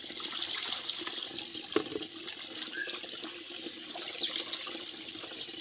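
Tap water running steadily at a sink while a glass carp is washed, a continuous splashing wash with a few brief clinks, no voices.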